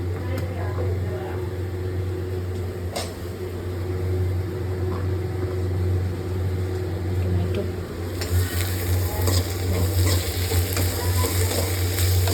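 Tomatoes fry in a pan for green chicken gravy, a steady broadband sizzle with occasional stirring clatter, growing brighter and louder in the last few seconds; no voices.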